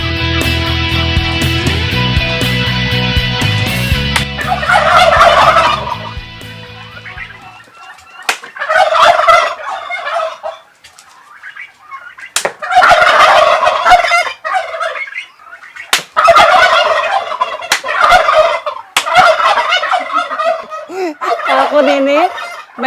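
Turkeys on an Indonesian farm gobble in repeated loud bursts, several calls overlapping in quick succession, after an opening stretch of mixed droning noise; the gobbles come close and clear with short pauses between them.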